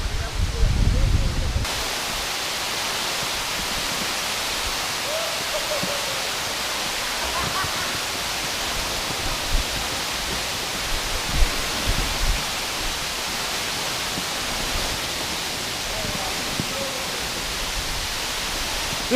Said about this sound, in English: This is the most beautiful waterfall I've ever seen.